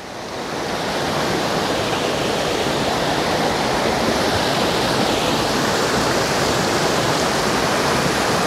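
A creek waterfall pouring steadily, a dense, loud, unbroken rush of water that swells in over the first second and then holds constant, with no voices.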